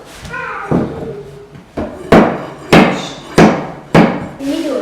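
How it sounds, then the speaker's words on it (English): A series of sharp hammer blows on laminate flooring being fitted into place in an office, about six strikes spaced roughly half a second apart, close and loud, with brief speech at the start. "Hit this with a hammer right there."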